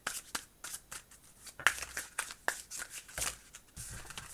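Tarot cards are shuffled close up and quietly, a run of soft rapid riffles and flicks with occasional sharper slaps, and no one talking.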